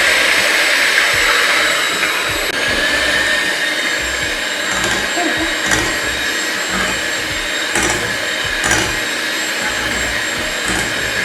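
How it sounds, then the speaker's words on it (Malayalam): An electric hand beater whips eggs with sugar for a tutti frutti cake batter, running at low speed as a loud, steady motor whine with faint rhythmic tapping against the bowl, throughout and with no talking. "അപ്പോൾ നമുക്ക് ആദ്യമേ ലോ സ്പീഡിലിട്ട് ബീറ്റ് ചെയ്ത് തുടങ്ങാം."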